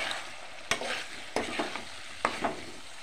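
Chicken chili rice is stirred in a frying pan, with a few sharp spoon-scraping strokes over a soft, steady sizzle, close and fairly quiet, with no talking.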